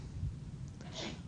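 A single sneeze in a lecture hall, a brief burst near the end over low background room noise.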